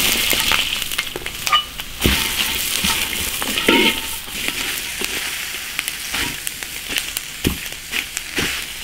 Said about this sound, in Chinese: 辣椒直接下锅炒，